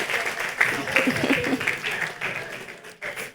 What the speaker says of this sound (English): Keep clapping for them, I beg you.